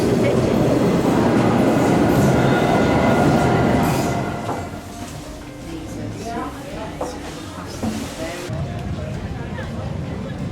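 A train rumbles loudly along the tracks, then the roar drops to a quieter rolling clatter with faint squeals and voices.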